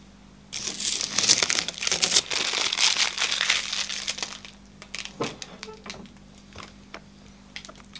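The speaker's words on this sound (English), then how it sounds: "And I also need to remove the tape from the carriage assembly." Protective tape being peeled and pulled from the carriage assembly of a DTM Print LX610e label printer, heard as close crinkling, crackling and rustling, followed by sparser clicks and handling noises.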